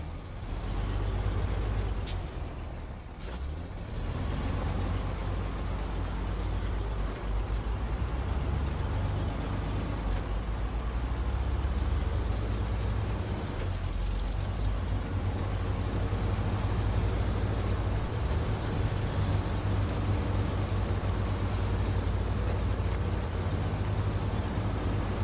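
An All American truck in the SnowRunner video game drives off-road, its engine a steady loud drone with low rumble and occasional knocks and clunks as the front end takes damage.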